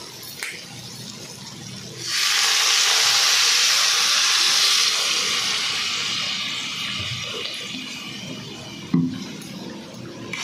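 Water poured into a hot pan of morola fish curry with potatoes bursts into a loud, steady hiss of steam and sizzle, which gradually fades over several seconds, with a small clatter near the end.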